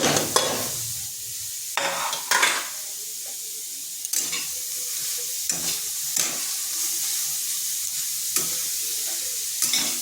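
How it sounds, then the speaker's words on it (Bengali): Grated carrot stirred in a kadai over low-medium heat while cooking carrot laddu: steady scraping spoon strokes every second or two over a soft, continuous sizzle and hiss, close and alone with no voices. "গাজরটাকে এইভাবে বেশ কিছুক্ষণ নাড়তে হবে।"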